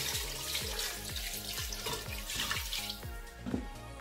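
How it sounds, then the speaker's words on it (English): Water runs from a tap with a bright trickling splash, poured over chicken in a cooking pot, steady and close for a few seconds with a few dripping knocks, no talk. "Then I add water to cover the chicken."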